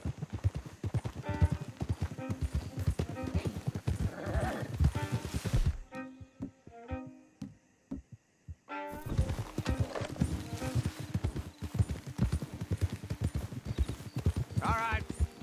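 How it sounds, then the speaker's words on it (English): Horses in the video game Red Dead Redemption 2, their hooves clopping in a steady rhythm close by, with an occasional whinny. Voices talk over the hoofbeats, and a short quieter stretch in the middle breaks the sequence. "Don't want the horses clopping around outside the window."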